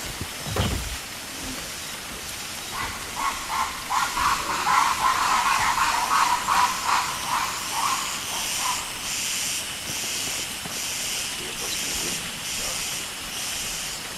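Rain falls in the video game Blind Descent, a steady hissing wash with a wet, rushing texture, moderately loud and continuous, with a brief thump near the start.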